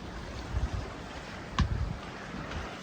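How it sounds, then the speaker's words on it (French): Current-driven waves slapping against a sailboat in a channel off Greece, a rushing wash of water with wind noise and a couple of sharper splashes, close and steady without talk. "des vagues dues au courant ici."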